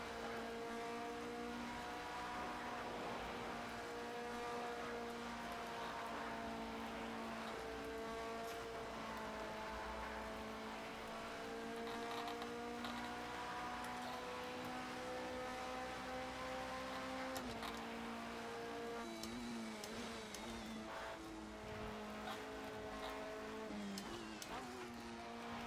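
A high-revving race car in Project CARS 2 sweeps through the Porsche Curves at Le Mans, engine droning loud and constant, pitch sliding up and down with gear changes and braking, while a faint voice talks briefly.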